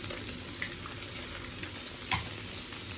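Eggs frying in the middle of Mamak-style stir-fried mee goreng noodles in a hot pan, a steady close sizzle with a few sharp crackles and small pops, no talk.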